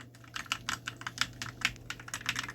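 Rapid, uneven keystrokes on a Langtu LT104 budget mechanical gaming keyboard connected through a USB receiver, close and crisp clicks running steadily over a low steady hum, with no talking.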